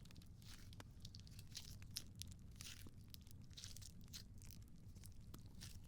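Soft, continuous crackling and crunching repeats steadily, like squishing crunchy slime, with no voices.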